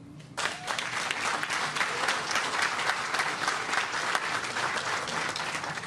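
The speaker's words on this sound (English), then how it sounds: "the mayor and the community deserve a round of applause for all their work" A crowd at the Skyland Town Center groundbreaking ceremony bursts into applause after a brief quiet start, sustained, dense clapping from many hands outdoors.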